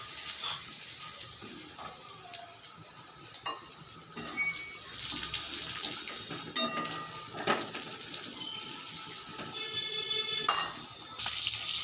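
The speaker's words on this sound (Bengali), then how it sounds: "এখন দিয়ে দেবো কেটে রাখা আলুগুলো।" Cut potatoes go into hot oil with whole cumin, setting off a continuous, fairly soft sizzle with occasional clinks and stirring noises and no talking.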